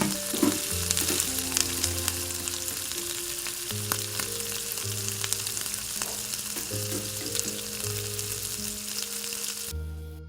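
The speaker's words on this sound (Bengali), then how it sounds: "প্রথম ধাপের বড়াগুলোকে তেলে দিয়ে দেওয়া হলো।" Bombay duck fish fritters fry in hot oil over a low-to-medium gas flame, giving a steady, loud sizzle with faint crackles throughout and no talking.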